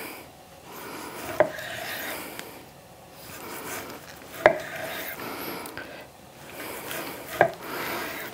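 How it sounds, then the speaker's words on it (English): A knife slices through raw pork for charcoal-grilled kebabs, giving three sharp chops against a board spaced a few seconds apart, with soft rubbing and scraping strokes between them, close and clear with no talk. "So basically, I'm just going to cut this"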